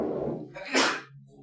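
A single sharp sneeze bursts out in a high school math classroom, brief and moderately close, following a trailing bit of a teacher's voice.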